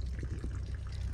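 Water leaking from a smashed vehicle water tank between the tank and the bash plate, a faint continuous trickling pour close by, with no talking.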